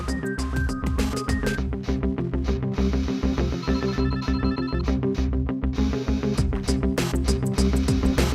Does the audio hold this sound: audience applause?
no